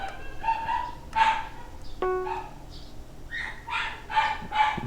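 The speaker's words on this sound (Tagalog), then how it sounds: "Ang ingay ng mga aso dito sa labas." Several dogs bark outside in bursts, at moderate distance, over the steady beeps and tones of a Minecraft Sky Wars game on the Cubecraft server.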